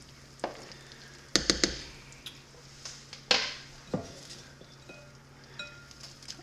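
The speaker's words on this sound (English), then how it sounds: "just stir it up and see." A spoon stirs broccoli cheddar soup in a pot, giving scattered scraping knocks and clinks against the pot with quiet gaps between them and no talking.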